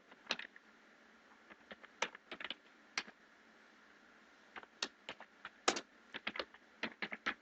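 Keys on a computer keyboard are tapped in quick, irregular bursts with short pauses between, crisp close clicks in an otherwise quiet room.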